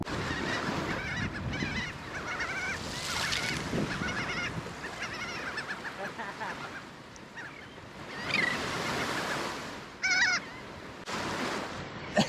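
Several agitated seabirds diving at a person give harsh honking calls over steady surf and wind, the calls coming in irregular bursts, some close.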